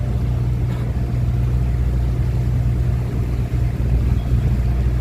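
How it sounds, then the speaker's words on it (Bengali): A motorboat passes beneath a bridge on a river near Dhaka, its engine a loud, steady, close low rumble that drones without a break. "ঢুকে যাচ্ছে নৌকাটা ব্রিজের নিচে দিয়ে আমরা যাচ্ছি"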